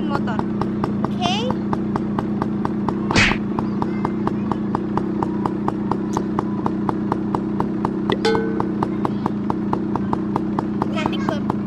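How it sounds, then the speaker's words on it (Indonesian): A motorcycle engine warming up while idling, a steady rapid ticking putter with a constant low hum and a few brief clatters and bumps. "aku puter-puter dulu karena aku mau manasin motor"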